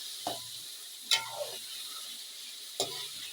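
Washed rice frying for a birthday biryani sizzles steadily in the pot while a spoon drags through it in three distinct scraping strokes, close and fairly loud. No one speaks.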